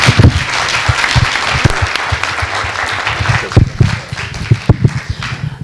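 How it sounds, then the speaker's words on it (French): Audience applause at a talk on fair and solidarity tourism, a dense wash of many hands clapping steadily, fairly loud and close, for several seconds with no speech. "Je pense qu'on peut vous applaudir."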